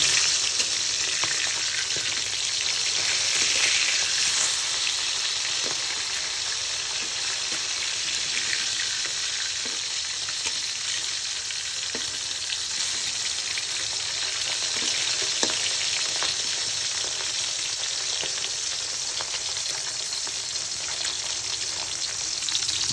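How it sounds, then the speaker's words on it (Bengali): Fish sizzles steadily in hot oil, a continuous crackling hiss with small pops throughout and no talking. "মাছ খুব ভালো করে ভেজে নেব, অপেক্ষা করবো মাছ ভাজা হওয়া পর্যন্ত"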